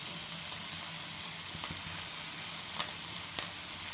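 Chickpea leaves are sautéed in a pan with salt and turmeric, producing a constant close sizzle and frying hiss, with a few soft clicks of stirring and no voices.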